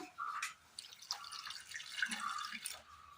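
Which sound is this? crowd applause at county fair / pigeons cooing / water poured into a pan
water poured into a pan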